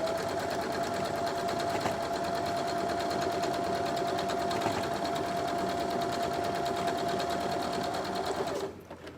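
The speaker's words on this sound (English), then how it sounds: "stitch a 1/4 inch again and again run off the edge" A sewing machine stitches a quarter-inch seam on quilt fabric for a woven ribbon star block, running as a steady, close mechanical whir for several seconds before stopping abruptly at the end.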